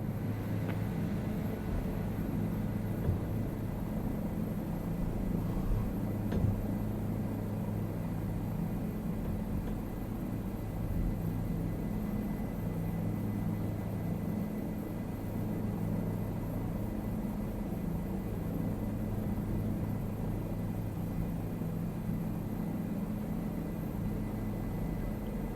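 Helicopter rotor blades and engine drone in a continuous, even rumble heard from inside the cabin during a flight around Key West, Florida, a steady low hum with no breaks.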